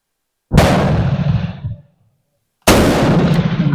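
A Madsen M47 rifle fires two loud, sharp reports about two seconds apart, each with a brief echoing tail, outdoors at a target range.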